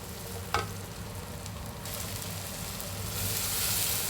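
Onion and garlic frying in a pan for tomato chutney give a constant close sizzle with a single sharp clink early on, the hiss growing slightly louder toward the end.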